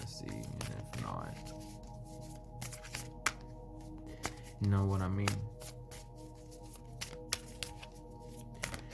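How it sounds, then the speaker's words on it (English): A deck of cards is shuffled with quick riffling bursts and sharp snaps, close and fairly quiet, while someone talks over and between the shuffles. "I'm gonna shuffle this a few times and we're gonna see."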